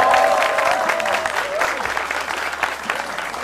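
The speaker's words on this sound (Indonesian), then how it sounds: "Langsung aja kita tepuk tangan buat Mongo." A television stand-up comedy show audience applauds as a comedian is introduced, dense crowd clapping loud and close for the full stretch, with a host's voice briefly over the start.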